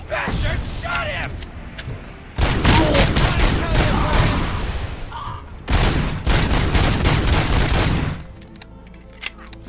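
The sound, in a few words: gunfire in the Robocop film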